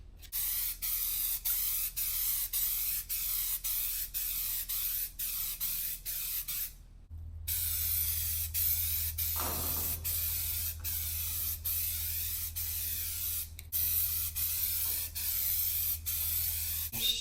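Spray paint hissing steadily onto a Ruger 10/22 youth rifle stock as a base coat, a continuous close aerosol spray with a brief break partway through and no talking.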